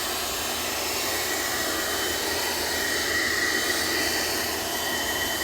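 A Karcher pressure washer sprays water onto car rims, blasting off brake dust with a continuous loud, dense hiss and roar that holds steady throughout, close by with no talk.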